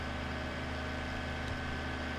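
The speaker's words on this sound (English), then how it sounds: "That sounds like such a tiny little engine compared to the Massey Ferguson." Small vehicle engine idles in Farming Simulator 17, a steady low droning hum with even tonal bands, constant and unvarying, with no talk over it.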